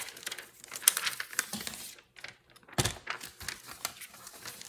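Vellum paper is cut in a sequence of crisp, close snips and crinkles in irregular bursts, with brief quiet gaps between the cuts.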